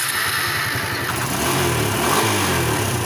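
A Kawasaki Barako 175 motorcycle engine, being tested while troubleshooting a sudden loss of electrical power, starts and runs steadily up close, with a throbbing idle that rises briefly in revs.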